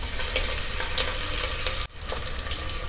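Onions sizzle and crackle steadily in hot oil with fennel seeds, green chillies and curry leaves, with a few stirring scrapes and a brief dip in the sizzle near the end.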